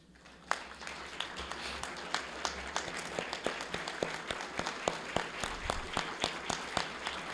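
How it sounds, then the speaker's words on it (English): A Rotary club audience gives a round of applause for Paul Harris Fellows standing in the room, a dense, steady clapping that holds for several seconds with a few sharper claps near the front. "let's recognize them all with a round of applause"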